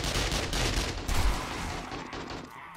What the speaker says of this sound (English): I was wondering what the hell you're firing at.